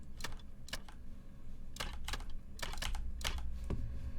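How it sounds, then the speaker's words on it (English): Clattering keystrokes on a keyboard with a typewriter-like sound come in quick bursts of several strikes separated by short pauses, close and fairly soft. "I hear a typewriter."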